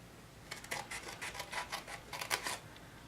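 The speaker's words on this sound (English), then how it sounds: "So again, we're going to cut on that score mark" Scissors snipping through paper along a scored fold line while making a small box, a close, quiet series of crisp rasping cuts in an irregular rhythm.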